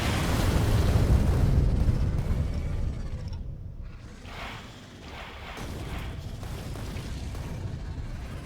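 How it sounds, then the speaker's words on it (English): Artillery shells slamming into enemy spawners in Factorio, a dense rumbling barrage of booms that swells loud at first, then eases into a steady run of softer overlapping blasts. "the blast radius on the artillery shell will take out multiple spawners"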